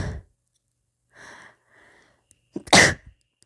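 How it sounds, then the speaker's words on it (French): A woman sneezes once, loudly and close, a single sharp burst near the end after a couple of quiet breaths. "Je suis désolée, je vais éternuer."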